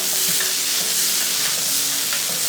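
Hand-shredded chicken is stirred into a frying mixture in a pan for Irani pola, a dense continuous sizzle with scraping and soft spatula movement throughout.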